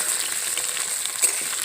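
Potatoes frying in well-heated oil give off a steady, close hiss and crackle with scattered sharper pops, heard alone and without talk.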